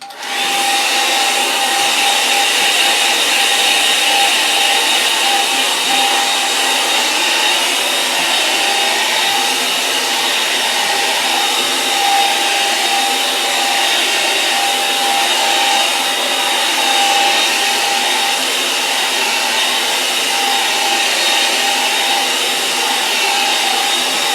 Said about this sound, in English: Where's my hair dry? Right. Bit of noise coming up.